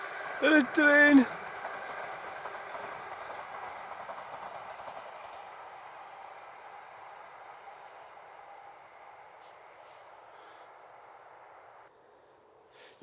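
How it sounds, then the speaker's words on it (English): A train rumbles past at close range in Stirling, Scotland, a steady broad roar that slowly fades over several seconds, with a brief burst of voices near the start. "The train!"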